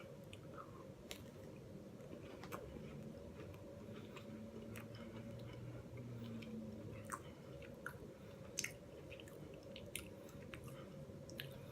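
Someone chewing a crunchy hot fudge sundae Pop-Tart with sprinkles, faint close mouth sounds and a few small crunchy clicks over a low steady hum, with no talk.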